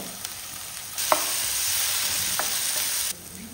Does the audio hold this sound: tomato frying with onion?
yes